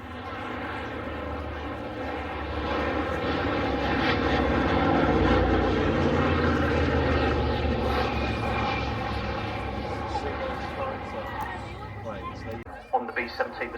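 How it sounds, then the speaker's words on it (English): Piston warbird engines of a Republic P-47D Thunderbolt and an Australian-built North American T-51D Mustang forming up on a B-17 at the Cosford Air Show, a loud sustained propeller drone that swells and fades, with a commentator talking over it. "The Republic P-47D Thunderbolt and an Australian-built version of the North American T-51D Mustang forming up on the B-17"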